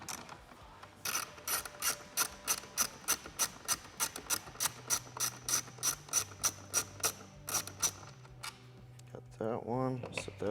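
A ratchet clicks in a quick, even rhythm as a Torx 27 bolt is backed out of the glove box on a 2024 Harley Road Glide inner fairing. The clicks are close and crisp, and a short whirring rub comes near the end.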